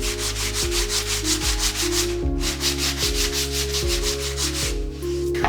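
Light, rhythmic back-and-forth sanding strokes over a painted rose wall-art panel to smooth and blend the colours, steady and close, with sustained background music underneath.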